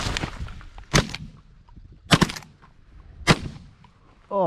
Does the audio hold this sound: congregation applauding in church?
no